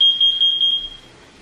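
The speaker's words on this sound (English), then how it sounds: "we can't figure out where the beeping is coming from" A high, thin electronic beep from a smoke alarm chirps in a quick pulsing burst, then fades into quiet room hiss.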